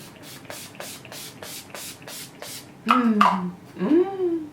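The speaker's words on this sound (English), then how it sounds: "spray my face with the Urban Decay Chill Makeup Setting Spray" Several soft, evenly spaced misty sprays of makeup setting spray hiss onto a face in a steady series, followed by a short burst of nearby speech.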